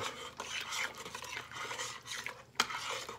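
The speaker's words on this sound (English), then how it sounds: "So I'm gonna put that tomato paste right in there, give that a good stir." A spoon works tomato paste into a simmering chicken stew, giving a close, wet scraping swirl and one sharp knock on the pot near the end.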